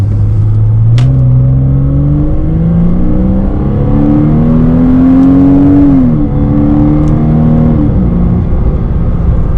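Porsche 987.1 Cayman with Tiptronic automatic, driven in manual mode: a steady engine drone rises in pitch through the revs, with a few audible shift points where the tone steps and briefly drops, loud and close throughout.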